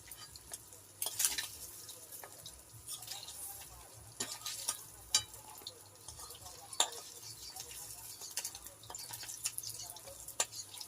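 Fried fish is lifted out of a wok of hot oil, giving a soft, quiet bubbling with scattered clicks and taps of the utensil throughout.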